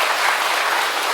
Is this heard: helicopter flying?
no